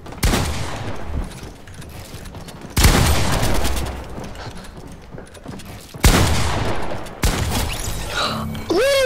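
Fortnite video game gunfire: bursts of rapid shots and loud bangs crackle in several clusters, close and sharp, with a rising whistling effect at the end.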